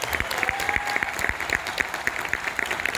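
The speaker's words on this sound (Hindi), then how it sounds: "तो जबरदस्त ताली हो जाए वेस्टिज के लिए था" An auditorium audience in Surat applauds in a steady, dense wash of clapping, with some sharp individual claps standing out near the front.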